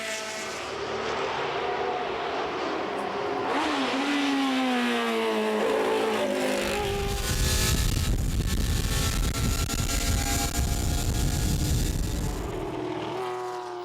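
Porsche and Renault race cars battle at the Le Mans Classic, engines screaming and shifting as they pass close by, then a roaring rush of a car sweeping past, loud and continuous.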